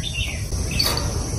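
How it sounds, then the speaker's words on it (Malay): Several colourful budgerigars kept together chirp in quick, bright, high tweets over a low steady background hum, moderately close and without any talking. "Burung baji ni special dia."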